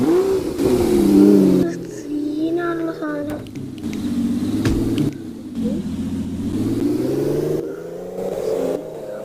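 BMW car engine in a Minecraft city game revving up and down in repeated rising and falling surges, loud and close, with someone talking over it.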